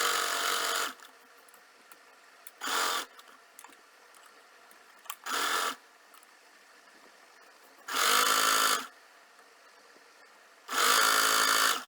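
Sewing machine stitching a side seam pocket on a kurti or trouser, five separate bursts of whirring motor, some short and some longer, with quiet pauses between.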